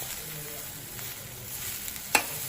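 A spoon stirs masala idli pieces in a pan with grated coconut and curry leaves, giving a soft continuous sizzle and scrape, with one sharper clink near the end.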